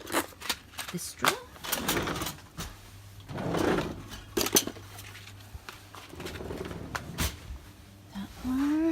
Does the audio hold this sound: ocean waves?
no